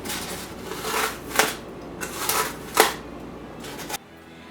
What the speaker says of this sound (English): We're basically going to be ripping this apart until it shapes a handle.